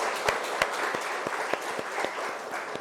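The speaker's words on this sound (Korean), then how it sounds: "우리 하나님께 영광의 박수 올려드립니다" A church congregation claps together in a sanctuary, sparse individual claps standing out as distinct sharp hits over a softer bed of applause, moderately distant and continuous.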